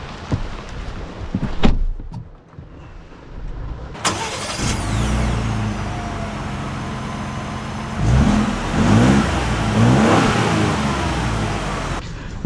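A 2.7-litre V6 Ford Ranger pickup pulls away after a door thunk, its engine rising steadily from idle into a strong close-up rev with a couple of gear changes, no talk over it.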